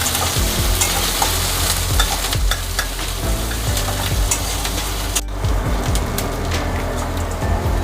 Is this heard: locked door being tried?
no